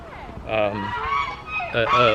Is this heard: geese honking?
yes